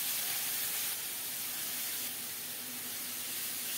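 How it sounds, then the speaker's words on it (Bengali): Spinach going into hot mustard oil with garlic already fried golden brown, giving a steady close broadband sizzle and hiss that holds evenly throughout with no talking. "এখন শাক দিয়ে দেব।"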